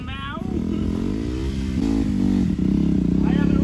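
KTM motorcycle engine riding off-road along a highway near Manali, a close, steady engine drone with shifting pitch, under someone talking.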